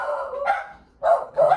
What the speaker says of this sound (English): They're barking at you.